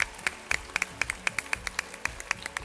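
An audience at a school graduation ceremony claps for the graduates' parents. Many hands beat in steady, fairly close applause with a quick, even rhythm.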